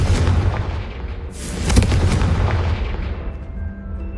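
Confringo fire spell exploding in the Hogwarts Legacy video game, a loud booming blast with a roaring, rumbling tail that swells and then slowly fades over a dense game soundscape.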